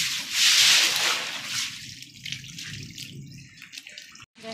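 Heavy rainwater floods a rooftop in Pakistan, a gushing, splashing rush loudest at the start, then settling into a lower, uneven churning flow close to the listener.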